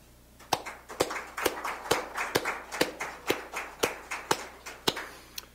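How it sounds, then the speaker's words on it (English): Sparse, slow clapping at a school board of education meeting, a dozen or so distinct claps in an uneven rhythm, fairly quiet and with no talking over them. "I'd like to give them a round of applause."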